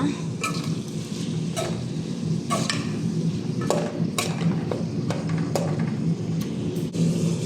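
Lentils and fenugreek seeds stirred and fried in a pan while making fenugreek dal, with a steady frying hiss and repeated sharp scrapes of a spoon against the metal pan, close up and without talk.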